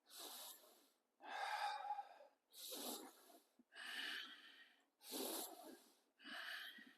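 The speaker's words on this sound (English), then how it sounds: "breathing in through the nostrils, breathing out through the nostrils moderately" A group in a men's breathwork class breathes in and out through the nostrils at a moderate pace, six even, hissing nasal breaths alternating in a steady rhythm, quiet and close, with no talking.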